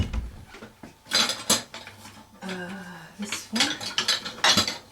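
Kitchen utensils rattle and clatter as a wooden spoon is picked out while making biscuits, a few bright clinking bursts and scraping clunks, close, with a short spoken remark in between.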